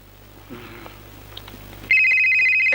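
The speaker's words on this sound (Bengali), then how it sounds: "ফোন ফোন ফোন বাজে" A telephone ringtone starts abruptly partway through and rings loud and steady to the end, after a quiet stretch with faint background sounds, in a Bangla movie scene.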